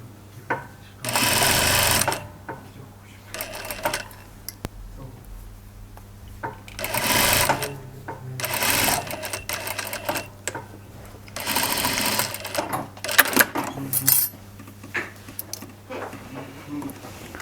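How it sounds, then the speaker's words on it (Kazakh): A sewing machine stitches the outer hood pieces of a hoodie in several bursts of rapid mechanical whirring, with pauses between runs and quiet handling noises. "Келесі мынау булавкаға дейін тігеміз."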